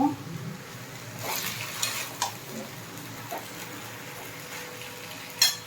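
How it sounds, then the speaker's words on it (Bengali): Malabar spinach leaves and stems fry in a pan with quiet sizzling and occasional stirring scrapes, punctuated by a few light metallic clinks. "এই সময় আমি ডাটাগুলোও দিয়ে দেবো এবার নাড়িয়ে নেব"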